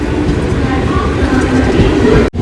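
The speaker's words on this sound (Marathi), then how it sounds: "गाडी आलेली आहे बघा कर्जत ट्रेन" A Karjat train arriving at a station rumbles loudly and continuously nearby with a rolling mechanical roar, cutting off abruptly near the end.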